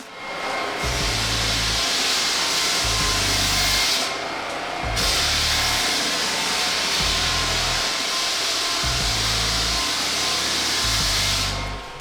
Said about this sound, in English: Always sand with the grain of the wood.